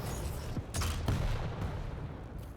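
Railgun fire in a Quake duel: a few sharp, close cracks in quick succession over a constant bed of game noise.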